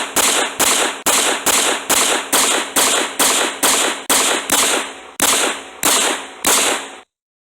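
Modified Remington 870 pump shotgun fired from the hip, a run of about twelve sharp, loud blasts in a steady rhythm roughly every half second, each with a short decaying tail, then sudden silence.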